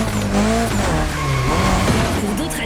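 A car drifting in The Crew Motorfest racing game, a loud, sustained engine roar mixed with squealing, skidding tires, continuous throughout without pause.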